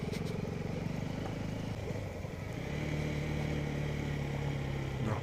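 A motorcycle on an early-morning sunrise ride near Ooty drones steadily with engine hum and wind noise, the pitch shifting slightly partway through as the rider changes speed, with no voices.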